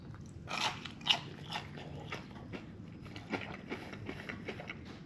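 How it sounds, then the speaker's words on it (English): Crisp crunching bites into crumbed fried gurnard fish close to the mic, a few loud crunches followed by quieter chewing, with no talking. "I'll just show you how crunchy it is. These crumbs."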